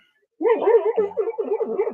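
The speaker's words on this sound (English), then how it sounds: "your dog going off over there." A dog barks and whimpers in a rapid run of yips and bow-wows, fairly close and loud, with no talk over it.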